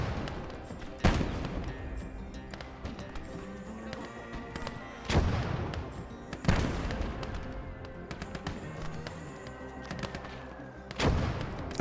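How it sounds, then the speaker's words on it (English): Mortars firing in a war video game, several sharp booming blasts spaced a few seconds apart, each ringing out over a dense bed of battle noise and distant gunfire. "Mortars are popping off."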